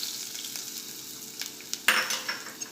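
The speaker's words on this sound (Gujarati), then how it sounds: "હવે આપણે આપણા બેટરમાં વઘાર એડ કરી દઈશું" Hot tempering oil sizzles and crackles steadily, with a sharper burst of hissing and popping near the end as it is poured into a bottle gourd batter.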